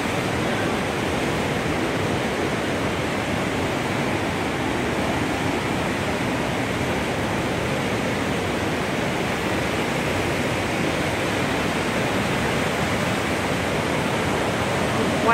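Class 6 whitewater rapids on a river roar steadily and loudly up close, a continuous dense rush of churning water with no break.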